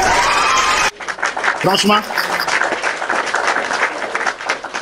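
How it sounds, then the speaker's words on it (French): Audience applause at a political debate on Niger, Mali and Burkina Faso rises as a ragged patter of clapping and crowd noise after a music-like passage cuts off. Someone briefly speaks over the clapping. "Applaudissements."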